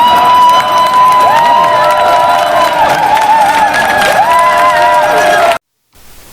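A rally crowd cheers, whoops and shouts loudly and continuously in honour of a civil rights leader, a dense roar with children's shouts mixed in, ending abruptly near the close.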